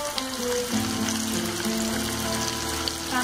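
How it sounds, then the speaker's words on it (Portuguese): Spicy fried kibbeh sizzles in a pan of hot oil, a steady continuous crackle and hiss heard close up with no talking. "Vou colocar esse que enrolei para fritar para vocês verem que ele não vai abrir."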